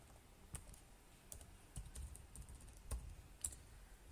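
Soft keystrokes on a computer keyboard while a formula is entered in Power BI, coming as sparse, irregular clicks at low volume with no voices.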